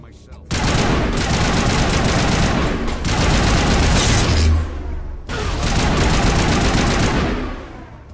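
Rapid turret gunfire in the Mass Effect video game, dense sustained bursts of shots in two long volleys separated by a brief gap, loud and close with booming low impacts.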